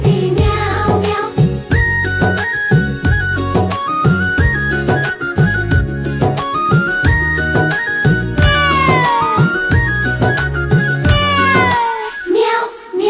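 A singing voice imitates a cat's meow in a Hindi children's nursery rhyme, with repeated sung meows over a loud, bouncy backing track with steady beat and melody.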